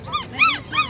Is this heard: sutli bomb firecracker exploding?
no